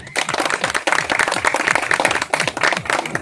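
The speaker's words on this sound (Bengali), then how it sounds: "আমরা সবাই মিলে তাদের উদ্দেশ্যে একটা করতালি দিতেই পারি" Dense applause for the organisers of a one-day commuter-association cricket tournament, many hands clapping steadily and close by for several seconds without a break.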